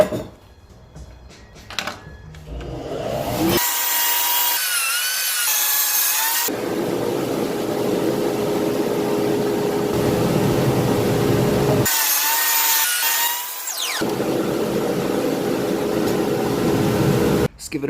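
A power saw trims the edges of a freshly planed wooden cutting board, its loud steady whine running through two long cuts with brief pauses between, close and continuous.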